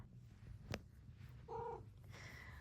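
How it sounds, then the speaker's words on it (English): A pet cat close by at home, a low, soft purring rumble running underneath, with a brief short vocal chirp partway through and faint background noise. "my cat is here"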